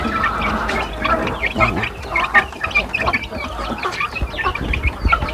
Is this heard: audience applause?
no